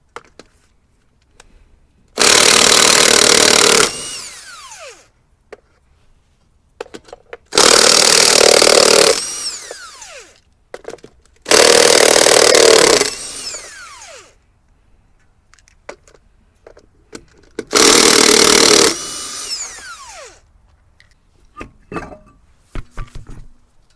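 A power tool, likely an impact wrench, works on the wheel of a 2010 Kia Rio during a tie rod job: four loud bursts of roughly two seconds each, separated by quiet gaps with faint clinks of handling.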